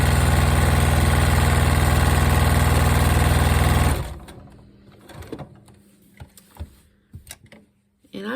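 A sewing machine stitches a quilt block in one steady, loud, fast run that stops abruptly about halfway, leaving only quiet handling clicks and light taps afterward.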